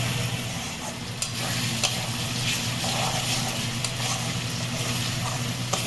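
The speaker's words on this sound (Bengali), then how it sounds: "আমি 3 মিনিট মশলাটা কষে নেব।" Masala for chicken kosha sautéing in a pan, a steady close sizzle and fry with occasional scrapes of stirring running throughout.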